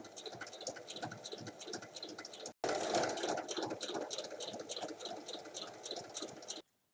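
A sewing machine stitching fabric for a small panda pencil case, a fast steady mechanical whir with brief break, then continuing loudly before stopping abruptly, quiet and close.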